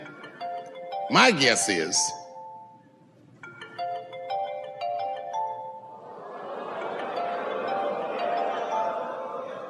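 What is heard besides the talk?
phone ringing in audience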